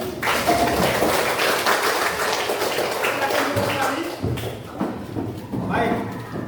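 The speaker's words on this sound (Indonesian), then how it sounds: "Kita beri standing aplaus untuk semua kelompok." Audience applause for the last group at a gathering, a dense, steady clapping that fills the whole stretch, with a few thumps and speech mixed in underneath.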